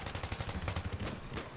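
Rapid automatic gunfire from the Battlefield 3 video game, a quick burst of a dozen or so sharp shots in steady rhythm, fairly loud and close.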